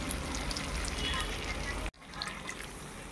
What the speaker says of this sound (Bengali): বাটিটা একটু ধুয়ে দিলাম।